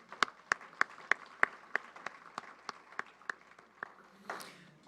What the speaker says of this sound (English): One round of applause for our presenters.